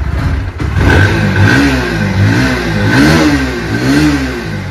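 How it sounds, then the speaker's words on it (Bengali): A second-hand motorcycle in good condition, with dual disc brakes and dual-channel ABS, revs up close by in several loud, rising and falling surges over a steady idle. "গাড়ির ইঞ্জিনের সাউন্ড শুনে বুঝতে পারছেন সুপার কন্ডিশন আছে"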